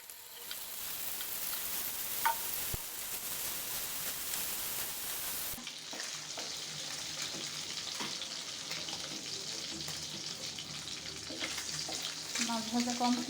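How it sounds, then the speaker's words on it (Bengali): Fish pieces fry in hot oil, a dense continuous sizzle that briefly cuts in level partway through, with occasional light clinks and stirring sounds up close. "প্রথমে মাছগুলো ভেজে নেব।"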